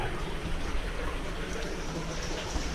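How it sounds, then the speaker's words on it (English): Running water rushes steadily through a cave, a dense, continuous wash that fills the space without break. "Here's a lot of running water"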